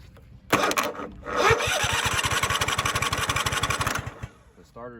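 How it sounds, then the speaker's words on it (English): A lawn mower's starter motor, jumped straight from the battery with jumper cables, cranks the engine in a fast rhythmic chug for about two and a half seconds, then spins down, with a spark-like snap at the start. "Hooked the jumper cables up to the battery. We're gonna jump the starter."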